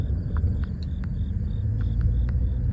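Frogs calling at night in secluded woods beyond a yard, a steady series of short, repeated chirping calls over a constant low rumble of background noise, with no one talking.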